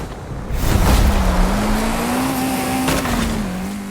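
A car engine drones in a video game, a loud, close, steady whine that rises slightly and then dips, with a rushing road noise underneath.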